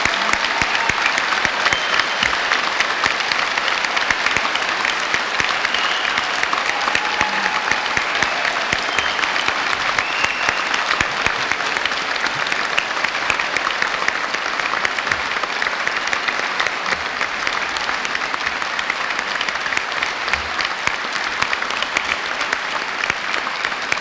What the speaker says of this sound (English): let's start today's ceremony by giving all of these amazing graduates a huge round of applause